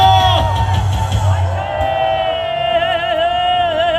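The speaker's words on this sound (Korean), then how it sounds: "이 시간 힘차게 박수 쳐주시기 바랍니다" A crowd at an outdoor political rally in Gwanghwamun cheers and applauds a leader's introduction, a dense roar of whoops and shouts that holds steady and loud throughout.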